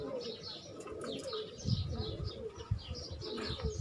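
Pigeons coo softly on a rooftop loft, with low murmuring coos and scattered chirps and wing flutters, faint and continuous throughout.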